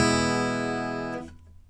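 A single rhythm guitar strum rings out as a full chord and decays steadily for over a second before it is damped. Nothing else plays.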